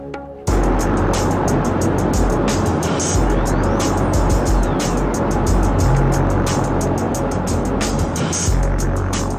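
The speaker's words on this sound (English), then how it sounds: "It's time to wind those jet engines up and put the hammer down." A fast ferry crossing the Marlborough Sounds in New Zealand, its jet engines powering up into a loud, sustained roar with rushing water and a deep low rumble that holds steady throughout.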